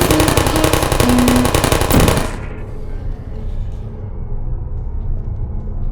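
Rapid turret machine-gun fire in Portal, a loud continuous burst of fast shots lasting about two seconds before cutting off into a low lingering rumble.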